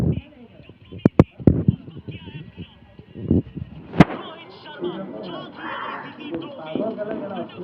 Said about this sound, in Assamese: সেইফালে ফটকা মাৰি আছে